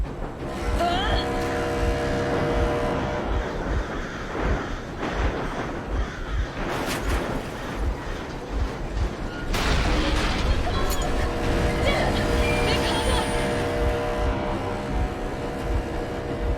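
A vehicle engine drones steadily in Metro Exodus, a low continuous rumble with a couple of heavier thumps and surges midway, while a voice speaks over it.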